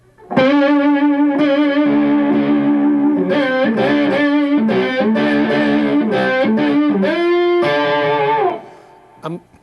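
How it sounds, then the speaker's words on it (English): Electric slide guitar played with a bottle slide lifted so it rasps for more overtones and a delta blues tone, a sustained distorted run of gliding notes and chords with a short pause near the end. "If I want more overtones and more of a delta kind of sound, then I'll lift these fingers up so the bottle is rasping."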